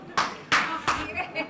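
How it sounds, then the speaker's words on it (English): Scattered audience clapping at a film summit: a handful of separate hand claps, short and fairly faint, spaced unevenly and tapering off. "I think you're clapping for me, Yamadu."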